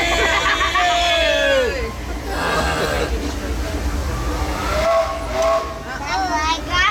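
Steam whistles from the Disneyland Railroad train on its Grand Circle Tour sound in rising and falling blasts over busy crowd chatter and nearby voices at the park station.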